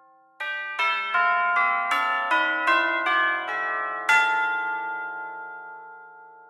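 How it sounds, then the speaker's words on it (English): Tubular bells from the Nucleus 1.3 orchestral library ring out in a quick series of about eight clear metallic strikes, each chime layering over the last before a final stroke rings on and slowly decays, with no voices. "And the next new instrument would be the tubular bells."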